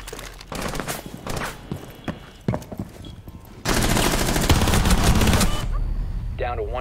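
Gunfire in a video game: scattered single shots early on, then a long, loud sustained burst of automatic fire, followed by quieter game effects.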